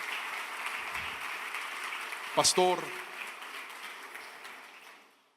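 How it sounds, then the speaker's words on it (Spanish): A church congregation applauds in a broad, steady wash of clapping that holds throughout and fades out at the end, with a brief spoken word and a shout partway through. "Si va a aplaudir al Rey, hágalo con fuerza,"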